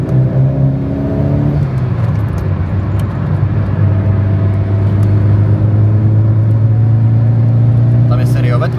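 Car with a stock turbocharged engine driving, its steady engine drone rising slightly in pitch then holding a constant note, loud and close from inside the cabin, with occasional faint clicks and rattles.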